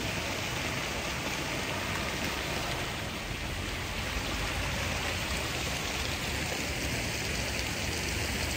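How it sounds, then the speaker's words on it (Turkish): Running water from a stream or fountain in a town square in Varna, Bulgaria, rushes in a steady, continuous splashing hiss at close range, with no voices. "Evet, su sesini duyuyorsunuz."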